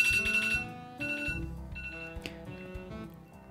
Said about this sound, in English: When your alarm goes off, this is what you will see instead.